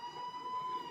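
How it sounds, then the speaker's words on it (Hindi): Siren from a police jeep racing to a scene, a steady wailing tone held close and loud for the full second with no talk over it. "सायरन बजाती पुलिस की जीपें"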